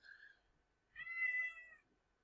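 Cat meowing indoors: a short faint mew followed by a longer, louder drawn-out meow, close and clear against near silence.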